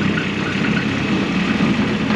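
A farm tractor with plows hooked up idles steadily nearby, a constant low rumbling drone with no speech.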